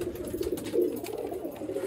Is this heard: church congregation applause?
no